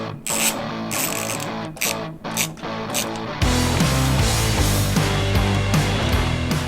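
A ratchet backs out 10mm headlight bolts on a Ford F-250, with a run of sharp clicking strokes at first, then a denser, louder mechanical clatter that continues steadily to the end.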